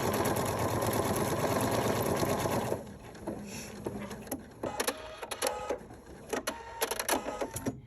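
A PFAFF creative 4.5 embroidery machine stitches a design at a fast, steady buzz for about three seconds, then drops to quieter intermittent whirs and clicks as it moves and trims, close up.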